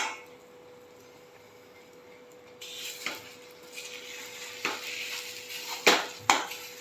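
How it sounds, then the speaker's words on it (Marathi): A lid lifts off a pan of steamed grated raw mango cooking for a sweet jam, giving a few clinks and metallic clatters that build after a quiet stretch, ending in two sharp close knocks. "मी आता झाकण काढते."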